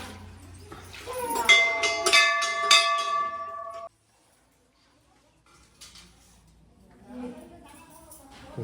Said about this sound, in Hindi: घंटी बजानता